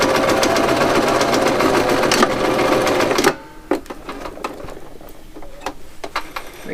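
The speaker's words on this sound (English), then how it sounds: "You're going to match back up here and do another lock stitch to finish" A sewing machine stitching a fabric mask runs loud and steady, then stops abruptly, leaving a few close clicks and handling noises.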